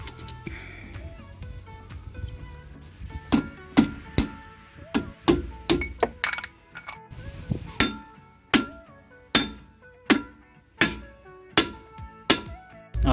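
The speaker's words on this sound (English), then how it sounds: "I've been hammering the drum for a good few minutes now" Sharp metallic hammer blows on a brake drum of a Nissan K11 Micra ring out one after another, spaced roughly a second apart and growing regular, each with a short metallic ring.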